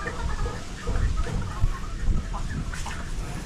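Darag native chickens cluck in short, irregular bursts close by on a farm, layered over a low background of rustling and movement.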